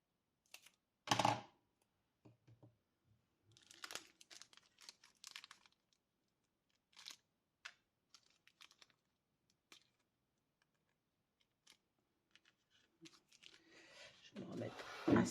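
A small piece of Scor-Tape handled for a paper craft album, giving faint scattered crinkles, peels and light taps in a quiet room, with brief soft handling sounds toward the end.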